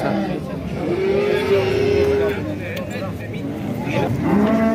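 A cow at a Mastchoh livestock market lowing in drawn-out moos, loud and near, over a babble of voices and market noise.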